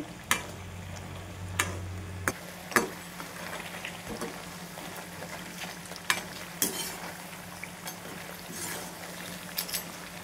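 Rice flour chips frying in hot oil give a steady soft sizzle with scattered sharp clicks and taps, likely a spatula against the pan, and a low hum early on.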